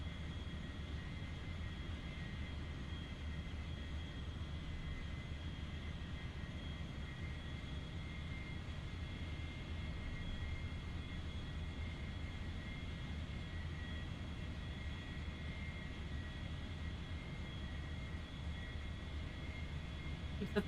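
An airplane engine drones steadily and faintly during a landing in a flight video game, a constant low hum with a thin high whine that holds unchanged for about twenty seconds.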